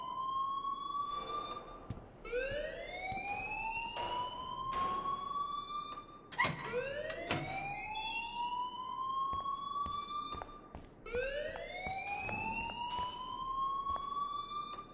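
Fire alarm in the Life Is Strange video game, a loud rising electronic whoop that repeats about every four seconds, joined by sharp clattering knocks, with no talking.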